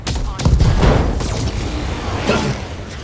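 Mech weapons in the BattleTech game fire in a heavy burst of booming, crackling shots that fade into a rumbling tail, with a second, softer volley following.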